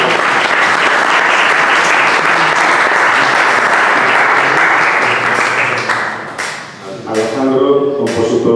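A conference audience claps in steady, dense applause for several seconds before it fades and a voice begins speaking.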